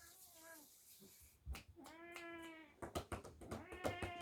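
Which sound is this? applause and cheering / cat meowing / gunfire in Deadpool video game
cat meowing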